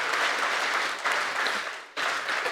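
Audience applause for the President at the All Nigeria Editors Conference swells in dense waves, dips briefly, then surges again, filling the conference hall with loud, continuous clapping.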